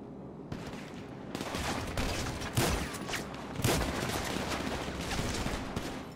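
Continuous gunfire in the video game GTA V Online, a dense, loud fusillade of overlapping shots with a couple of heavier blasts standing out, sustained throughout.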